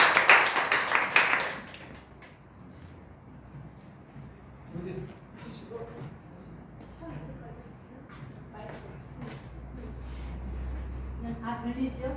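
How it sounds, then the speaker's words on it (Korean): A church congregation gives a short burst of welcoming applause during a Sunday service, loud for under two seconds before dying away into a quieter room where a voice begins to speak. "박수로 환영합니다."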